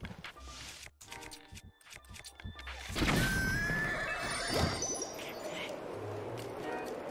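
A horse in a video game gives a loud, drawn-out whinny midway through, preceded by quieter clip-clopping hooves and followed by softer background sounds.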